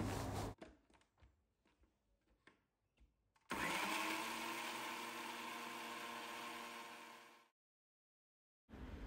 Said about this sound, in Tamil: இதை மிக்ஸி ஜாரில் சேர்த்துட்டு ஒரு ஃபைன் பேஸ்ட்டாக வந்து நம்ம அரைச்சிடலாம்.